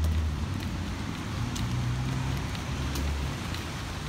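Steady rain heard from inside a moving city bus in Montreal, a constant broadband hiss over a low engine rumble with faint scattered taps, no talk.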